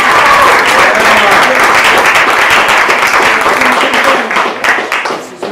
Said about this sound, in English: can we get a round of applause for this awesome community we have here?